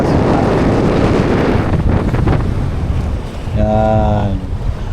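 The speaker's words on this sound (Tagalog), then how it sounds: "Ang lakas ng hangin." Strong wind buffets the microphone on an island shore at low tide, a loud continuous roar with a rushing surf-like wash, and a brief tonal hum near the end.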